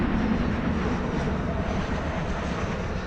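American Airlines Boeing 787-9 Dreamliner at DFW Airport, bound for Honolulu, giving off a continuous low, rumbling jet engine drone that stays fairly loud and even for the whole stretch, with no talking.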